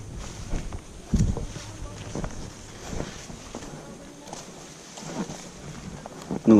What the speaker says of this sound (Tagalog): Kusog juga yung hangin diri.